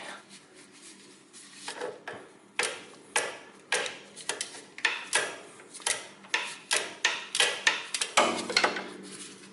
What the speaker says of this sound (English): and then I fasten that bolt in